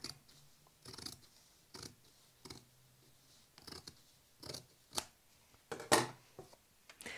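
Scissors trim down an interfaced inner seam allowance on a trouser pocket, giving a run of about eight crisp, close snips spaced a second or so apart, with no voice over them.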